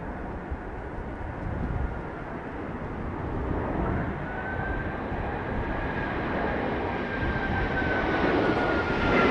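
Airbus A380 landing at Heathrow in stormy weather gives a steady, broad jet engine roar mixed with wind, a faint rising whine joining midway, loud and continuous without a break.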